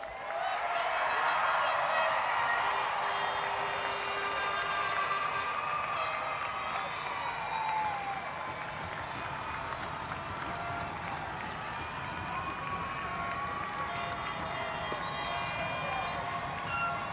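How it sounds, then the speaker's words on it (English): A crowd claps steadily for graduates at a 2021 high school graduation ceremony, a sustained round of applause filling a large space, with a few scattered cheers rising above it. "let's give these graduates a round of applause"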